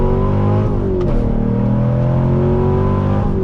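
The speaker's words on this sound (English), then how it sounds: "It is so crazy how fast this Corvette accelerates, and the sound, that pushrod V8 sounds glorious." A 2016 C7 Corvette Stingray's pushrod V8 accelerating hard from inside the car, a loud continuous engine roar rising in pitch with a quick shift dip before climbing again.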